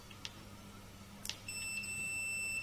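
A multimeter in continuity mode gives two short beeps as the probes touch, then a steady high continuous tone from about halfway through, on a quiet workbench during an Arduino mod of a Mega Drive console.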